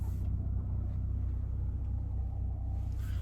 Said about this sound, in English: Look at all these cars.